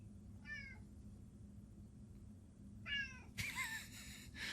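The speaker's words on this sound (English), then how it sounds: "My cat's just meowing right now." A pet cat named Kiki meows indoors, a few short separate cries spaced apart with a quiet pause between, then a louder, more insistent run of meows near the end.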